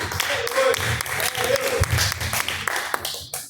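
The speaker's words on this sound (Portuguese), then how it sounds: "Receba o servo de Deus com as palmas bem fortes para Jesus" A congregation at a live Pentecostal church service claps loudly and fast, many hands together in an uneven rhythm, while a voice keeps talking over the applause.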